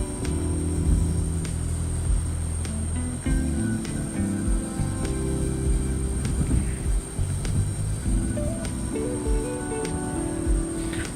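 A steady jet engine roar from an Embraer E-jet landing in X-Plane 12 holds loud and unbroken, with a faint whine above the low rumble.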